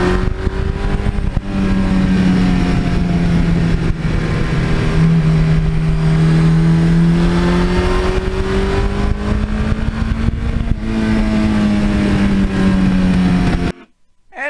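Suzuki GS1100E motorcycle cruising on the road, its engine droning steadily and loud with smooth, slowly rising and falling pitch, no talk, cutting off sharply near the end.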